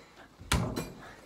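A basketball strikes a door once with a loud, close thud, followed shortly by a softer second knock, in an otherwise quiet indoor space.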